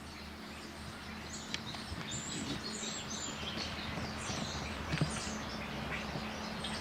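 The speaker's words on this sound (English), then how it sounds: "Listen to all the bird chirps." Birds chirp in a tree outdoors, scattered short high tweets recurring throughout over a steady low background hum, moderately faint.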